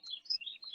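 A few quick, faint bird chirps sound in a short, high burst, alone with no other sounds.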